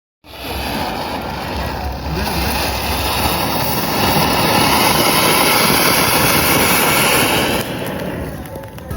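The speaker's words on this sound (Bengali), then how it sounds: "এবার একটা বড় তুবড়ি ফাটাবো" A large tubri fountain firework burning outdoors, a loud, continuous roaring hiss with crackle that holds steady for several seconds before easing off slightly.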